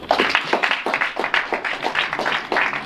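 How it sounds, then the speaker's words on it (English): Audience at a public memorial lecture for a late lawyer breaks into dense, steady applause from many hands, a continuous even clatter filling the hall for a few seconds. "I think he deserves an applause here"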